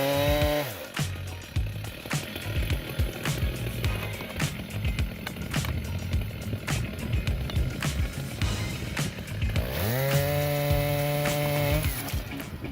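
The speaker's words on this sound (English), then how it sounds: "this Style 90 chainsaw is a force of nature, conquering giant tree trunks with unparalleled power" A Stihl 090 chainsaw revs up and bites into a giant tree trunk, its loud engine whining high and then held under load in a rough, rattling cut before spooling up again near the end.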